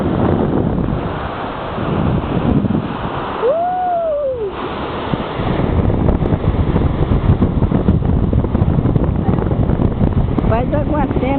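Sea waves wash onto a rocky shore in a steady broadband roar, buffeted by wind noise on the microphone, with a brief voice partway through.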